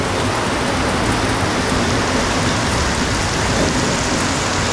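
Heavy tropical rain pours steadily in Pozuzo, a dense, loud roar of drops drumming on a roof and surfaces throughout, with a low rumbling undertone suggesting distant thunder.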